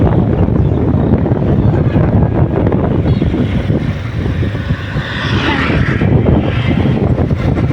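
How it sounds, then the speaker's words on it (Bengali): Strong wind roars across a shaded village road and buffets the microphone in a loud, continuous rush that swells and eases slightly, with no clear voices. "বাতাসের শব্দ নিশ্চয়ই আপনারা পাচ্ছেন"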